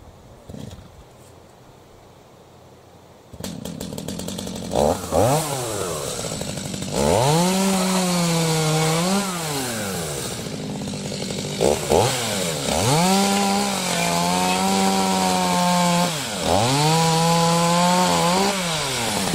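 A chainsaw cuts through felled poplar trunks, revving in long sustained passes that rise and fall in pitch with brief pauses between cuts. The saw sounds loud and close, running steadily after a quieter opening.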